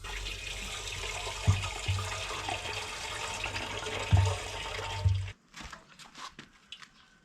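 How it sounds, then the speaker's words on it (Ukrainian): Water pours and splashes steadily into a metal motorcycle fuel tank of a Dnepr-12 (K-750) with a few hollow knocks, then stops, leaving quieter trickling and drips. "Тепер можна наповнити його водою."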